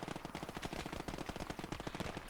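Sustained machine gun fire in the World War II game Gates of Hell Ostfront, a loud, dense, rapid stream of shots rattling without pause over a rumbling battlefield backdrop.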